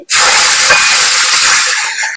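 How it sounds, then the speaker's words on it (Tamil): Ground chutney poured into hot oil tempered with curry leaves, two dried red chillies and asafoetida powder, bursting into a loud, steady, broadband sizzle that holds for about two seconds before cutting off. "இதுல நம்ம அரைச்ச சட்னியை சேர்த்துட்டு"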